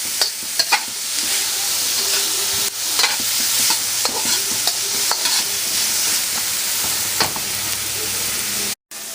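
Vegetables stir-fried in a hot wok give a loud, continuous hiss and sizzle, with sharp spatula clacks scattered throughout and a brief dropout just before the end.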